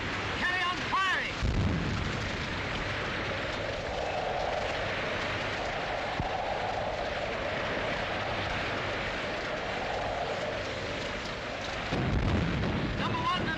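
Heavy naval guns on a warship firing in the wartime film In Which We Serve, a sustained roaring barrage of blasts with a loud burst near the start and another near the end, under a shouted order.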